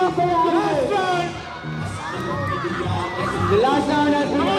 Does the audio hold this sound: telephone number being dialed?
no